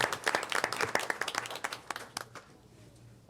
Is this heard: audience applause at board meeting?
yes